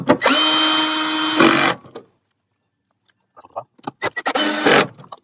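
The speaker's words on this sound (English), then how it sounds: "one of these electric screwdrivers. I got it turned down pretty low, so I don't want it to over tighten it." An electric screwdriver set to low torque tightens a screw on a Toyota Sienna sliding door, whirring loudly in a steady burst of more than a second, then falling silent before several short clicks and a second whir close by.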